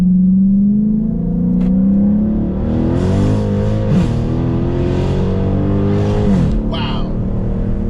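A Dodge 392 Hellcat V8 accelerates hard in sport mode, its ZF automatic transmission shifting up with rising engine pitch. A loud, close, continuous roar has brief dips at each gear change, and someone talks over it.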